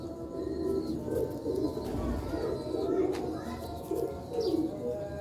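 Sialkoti rooftop pigeons coo in soft, repeated low rolling calls close by, with faint chirps and outdoor background noise mixed in.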